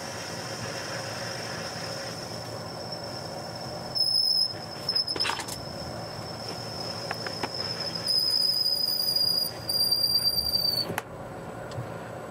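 Metal tube being parted off into half-inch lengths on a lathe, a steady machine hum with bursts of high, whining squeal as the tool cuts, loud and close, no talking.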